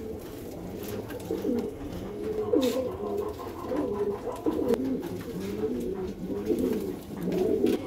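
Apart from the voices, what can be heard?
Madrasi pigeons cooing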